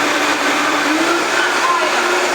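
A Vitamix blender runs at low speed blending a green smoothie, producing a loud, steady motor whir and churning roar close by for the whole short stretch.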